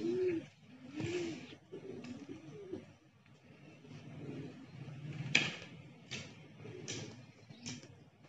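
Pigeons kept for flying coo softly in soft, rolling, repeated calls at low volume, with faint rustles and a brief knock.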